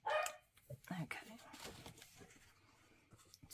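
A pet dog barks a few times close by at the start, short sharp yips and a whimper, then a person talks over quieter rustling.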